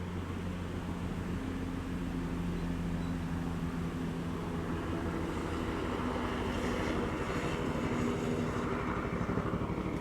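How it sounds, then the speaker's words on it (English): A helicopter drones steadily overhead, a continuous low rumble with a faint rhythmic beating that grows slightly louder toward the end. "yeah, that's a helicopter."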